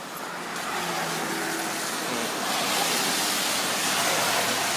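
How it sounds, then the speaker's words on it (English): Steady rain falls outside on a wet summer day, a continuous broadband hiss that swells slightly partway through, with no voices. "And the sad thing about this rain is there's a chance of it being like this all week long."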